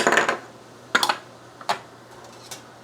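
A whisk stirs parsley, thyme, rosemary and peppercorns into water in a metal pot, giving a few sparse, quiet metallic clinks and scrapes separated by pauses.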